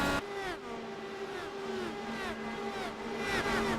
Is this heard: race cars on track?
yes